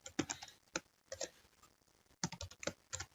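Quick bursts of keystrokes tap out a short word on a computer keyboard, close and crisp, in three small clusters with brief pauses between, no voices.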